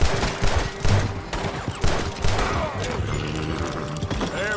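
Gunfire in the Red Dead Redemption 2 video game, a rapid volley of loud shots and thuds in a dense, continuous battle mix with a faint voice underneath.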